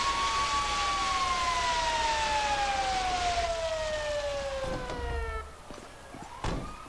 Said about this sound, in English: We've left the sirens on the appliance